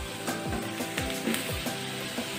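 Mushrooms and garlic sizzle steadily in a frying pan with fresh coriander, with a soft scrape of stirring about every half second over a constant frying hiss.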